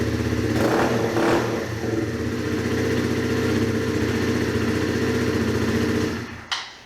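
A motorcycle engine on a 2018 Bullit Hero retro scrambler runs close by with a deep, throbbing exhaust rumble and slight revving, then cuts off abruptly near the end.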